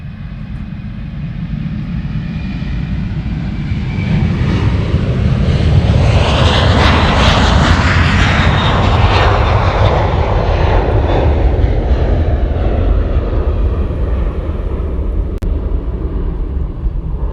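Fixed-wing airplane departing Honolulu airport, its engines roaring loud and close as it passes, swelling to a broad peak midway and holding a sustained rumble to the end.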